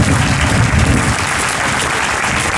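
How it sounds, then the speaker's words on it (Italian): A crowd at a municipal election event in Lanusei, Italy applauds steadily, dense clapping that is loudest at the start and eases slightly while continuing throughout, with no talk. "vorrei che gli facessimo un grande applauso"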